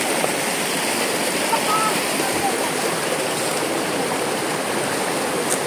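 A river flowing steadily through the forest, a continuous broadband rush of running water that stays even and close for the whole stretch, with no clear talk over it.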